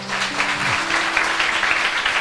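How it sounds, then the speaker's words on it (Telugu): A church congregation at a Telugu Sunday service claps together, a dense, fairly loud burst of applause that keeps going evenly, with a brief sustained voice tone near the start. "నమ్మిన వారు చప్పట్లు కొట్టండి."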